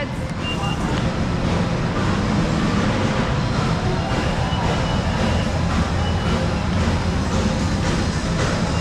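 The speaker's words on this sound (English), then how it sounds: "Quite a small train, isn't it?" A small commuter train in Kuala Lumpur, Malaysia, rumbles steadily at close range alongside a busy crowd, its continuous low roar filling the whole stretch with voices mixed in.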